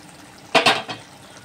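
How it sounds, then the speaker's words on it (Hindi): Water added to a pan of frying potato and eggplant curry, two quick loud splashing sizzles in close succession followed by a fading hiss. "देखिए इसमें हम और थोड़ा सा पानी ऐड करेंगे"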